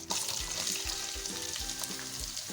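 Medium onions dropped into hot oil with whole spices for aloo keema, frying and being stirred: a close, steady sizzle with a few soft scraping strokes, fairly quiet.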